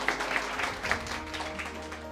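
Students in an offline coaching batch give a round of applause for their batch managers, a steady patter of clapping in a room that holds through the whole stretch.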